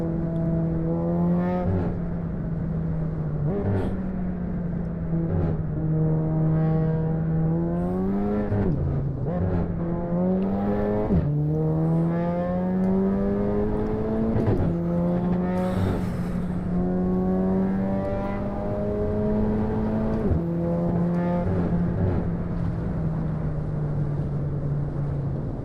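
A car in the racing game Assetto Corsa drones steadily with strong engine harmonics that dip and climb through several gear changes, over a bed of tire and wind noise, loud and continuous with no talking.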